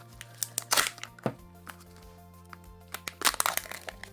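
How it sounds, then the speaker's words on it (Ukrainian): A small, lightweight clothespin figure from a Stranger Things Kinder Joy toy knocks against a hard surface in a few clustered bursts, bright clicky taps with quiet gaps between them. "І так стукотіла у нас ця прищіпка."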